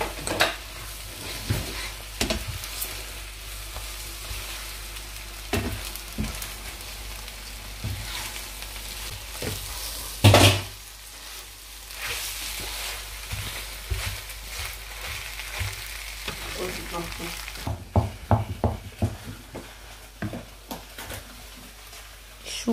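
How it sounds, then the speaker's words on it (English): Eggs frying in a pan with a constant crackling sizzle, punctuated by utensil knocks and scrapes and one sharp clatter midway, then a run of quick stirring strokes near the end. "So these are the eggs getting fried."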